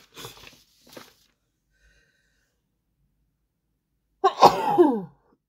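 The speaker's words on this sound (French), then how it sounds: "Je vais encore éternuer." After a few quiet breathy sounds and a pause, one loud, forceful sneeze bursts out close by.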